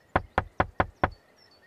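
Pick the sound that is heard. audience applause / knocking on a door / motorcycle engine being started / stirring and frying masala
knocking on a door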